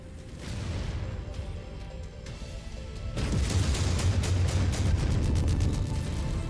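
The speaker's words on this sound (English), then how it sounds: "That's an armor explosion," In MechWarrior 5 combat, a mech's armor and ammunition explode with a muffled boom, then a louder, sustained burst of crackling blasts and rapid impacts builds midway through, heavy and close with no talk.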